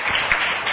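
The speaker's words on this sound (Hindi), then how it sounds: "जल्दी से ताली बजाओ।" Children in a Class 3 Hindi lesson clap together in a classroom, a short, dense patter of many hands close by.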